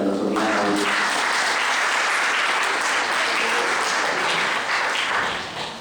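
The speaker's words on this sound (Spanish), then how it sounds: "pido por favor unos fuertes aplausos para el doctor Miranda Hurto" An audience at a criminal procedure law lecture applauds the speaker, with dense, loud, sustained clapping from a crowd that fills the room and fades slightly at the end, a voice briefly heard at the start.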